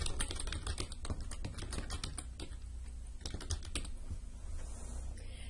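Fast, irregular clicking of a computer keyboard being typed on, quiet and close, with steady bursts of keystrokes and no talking.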